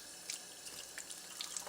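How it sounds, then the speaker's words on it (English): A water filter held under a running tap gives a faint, steady splash of flowing water with small droplet ticks scattered through it, heard close and with no voices. "to clean the filter, we simply run it under water from both ends"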